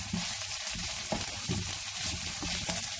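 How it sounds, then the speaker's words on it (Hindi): Chopped onions fry in an open pan, a steady close sizzle and crackle with occasional stirring scrapes and no voices over it. "बस एक दो मिनट प्याज फ्राई किए।"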